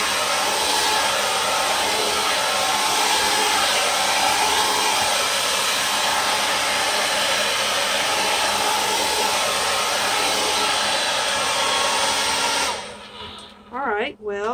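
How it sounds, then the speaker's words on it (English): A blow dryer roars steadily at close range over poured paint in a Dutch pour, then cuts off near the end into brief whirring and quiet. "we're going to take the blow dryer"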